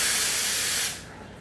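The steam wand of an espresso machine blasts a loud, close, steady hiss that cuts off abruptly, leaving a quieter residual whoosh.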